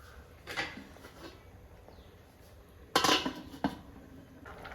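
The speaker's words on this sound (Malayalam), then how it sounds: "അപ്പോൾ നമുക്കിതൊന്ന് മൂടി വെച്ച് കൊടുക്കാം" A lid is set on a pot of Kerala-style sardine fish curry, giving a few metallic clanks and clinks, one soft knock early and a sharper rattling clatter later, against quiet kitchen background.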